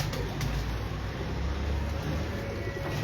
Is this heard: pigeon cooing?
yes